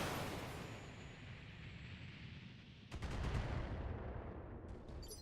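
A salvo of LRM-5 long-range missiles launching in the BattleTech strategy game, a sustained roaring whoosh that swells with a sharp burst of launches near the middle and trails off, no speech.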